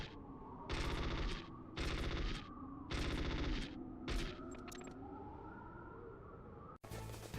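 Weapon fire aimed at the ground in Metal Gear Solid on the original PlayStation, heard as four loud, broadband bursts of gunfire at an even pace, followed by a quieter stretch and a sudden sharp cut near the end.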